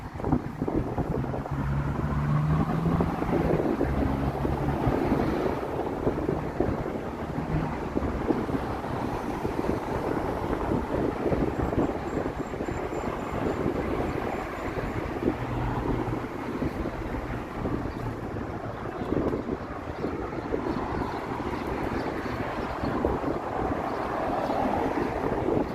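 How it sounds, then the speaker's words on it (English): Wind buffets the microphone outdoors in downtown Toronto on a Sunday evening, a steady, loud rumbling roar that continues without a break. "It's windy."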